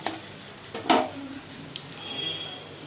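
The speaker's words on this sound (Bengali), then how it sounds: "শুকনো লঙ্কা দিয়ে দিলাম ভালোভাবে ভেজে নিলাম" Black cumin and dried red chilies frying in oil for a Bengal-style aloo posto, a soft steady sizzle with a brief louder burst of crackling as the chilies drop in, then settling back to a quiet hiss.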